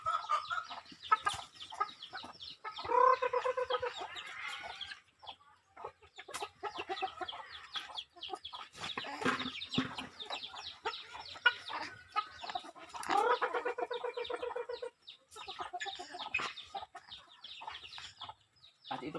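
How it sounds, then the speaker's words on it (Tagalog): Ten free-range backyard chickens in a rural province clucking steadily while being fed whole-kernel corn, with busy overlapping clucks and calls, close and continuous, with occasional voices in the background. "At ito pala yung mga manok ko."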